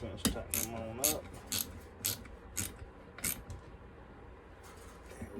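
A ratchet tightens bolts on a saw, a series of quick clicking ratchet bursts spaced about every half second, close and fairly quiet, with brief creaks between.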